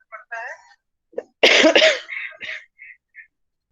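A few coughs and throat-clearing sounds, close to the microphone, with short quiet gaps between them.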